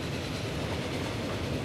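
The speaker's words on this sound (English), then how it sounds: "That purple. What is that purple train?" A train in the video game Transport Fever rolls along the rails with a steady, dense rumble and faint clattering, continuous and fairly loud, with no talking.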